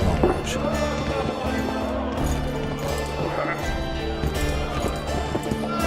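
Roach the horse's hooves clip-clop in a quick galloping rhythm in The Witcher 2, with a whinny and other game sounds and music mixed in.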